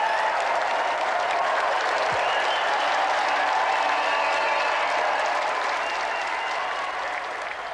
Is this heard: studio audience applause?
yes